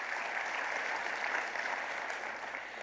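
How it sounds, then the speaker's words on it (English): Audience at a Queensland tourism conference welcome address applauding the newly introduced Mayor of Cairns, a full, steady round of clapping from a large room, continuous and evenly loud. "Let's give him a big round of applause."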